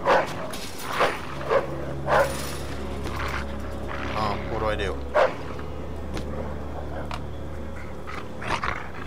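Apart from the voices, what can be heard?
dog barking and growling in video game Mafia 2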